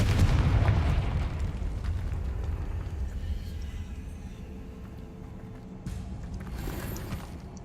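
A heavy explosion from the Confringo fire spell in Hogwarts Legacy booms loudly at the start, then decays into a long rumbling tail, with a smaller burst near the end and faint talk underneath.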